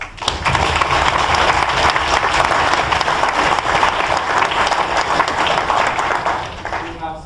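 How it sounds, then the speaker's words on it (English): Big, dense applause from the audience at a debate on leaving the EU rolls on steadily for around seven seconds, then eases off as a voice starts at the close. "Big round of applause."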